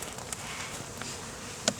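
Steady, dense buzzing of many honeybees on a hive frame close by, a continuous hum with a few brief louder clicks and bumps.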